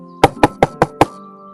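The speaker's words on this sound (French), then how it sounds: "Elle retourne prier Sainte Catherine quand quelqu'un frappe à sa porte." Five evenly spaced knocks on a door, a sound effect in an audio story, crisp and close with no talk over them.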